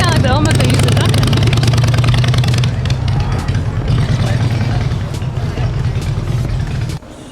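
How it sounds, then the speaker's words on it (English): A motorcycle engine drones steadily nearby, loud at first and easing off toward the end, with a voice talking over it. "You might not be able to hear me over the motorcycle noise"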